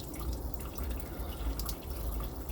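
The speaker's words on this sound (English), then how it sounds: "I'll just flush that filter out, that will allow it a little bit." Water flushing through a filter feeding a garden pond, a steady close splashing and gurgling stream with light drips running throughout.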